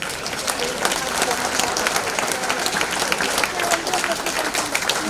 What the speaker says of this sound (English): Please stand so we may applaud you.